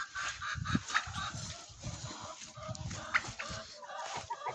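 Romanian autosexing geese honking repeatedly in a noisy, overlapping chorus close by, with harsh nasal calls coming in rapid bursts throughout.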